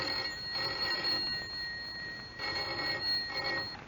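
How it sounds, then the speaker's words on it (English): A telephone bell ringing in two long bursts separated by a pause, loud and close, alone with no voices. "Yet the trouble first appeared as the commonplace ringing of a telephone."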